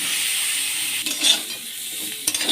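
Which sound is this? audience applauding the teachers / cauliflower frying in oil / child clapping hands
cauliflower frying in oil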